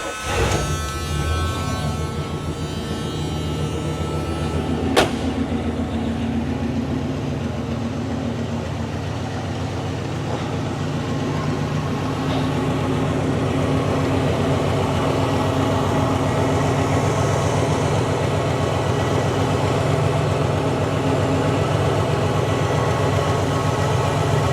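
A 1977 Pontiac Bonneville with a 400 cubic inch 6.6 liter V8 and a 3-speed automatic cranks and catches, then settles into a loud, steady, deep rumbling idle up close.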